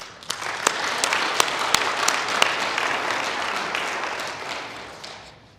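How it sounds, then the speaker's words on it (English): A luncheon audience at a chamber of commerce mayoral event gives a round of applause, with dense clapping and a few sharp nearby claps standing out before it tapers off near the end. "please join me in a round of applause for them"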